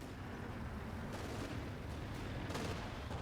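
A tank fires a sabot round in a World War II real-time strategy match, heard as a few muffled booms and cracks over a dense, steady battle din.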